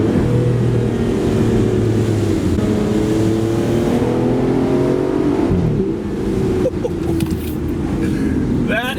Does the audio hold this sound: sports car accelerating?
yes